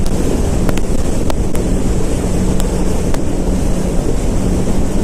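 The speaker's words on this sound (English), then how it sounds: "I know how bad this might be with the wind." Heavy wind buffeting a microphone while riding at about 70 mph on the way to the coast, a loud continuous roaring rush with a low rumble and a few sharp gusty thumps.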